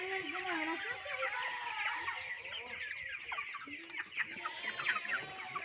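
Chickens cluck at a small poultry farm, overlapping calls and clucks in a busy, fairly close chorus with occasional sharper squawks; no clear talk.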